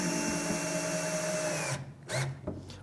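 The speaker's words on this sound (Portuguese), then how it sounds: "Eu vou para a parafusadeira!" A power screwdriver drives screws into a wooden bookshelf, a loud, steady motor whine that cuts off after almost two seconds, followed by a couple of short bursts.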